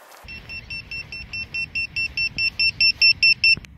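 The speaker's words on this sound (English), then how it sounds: "So now when the buzzer is facing me, I can hear it." A Vifly drone finder buzzer beeps in a steady rapid series of short high tones, growing louder over a few seconds, close by.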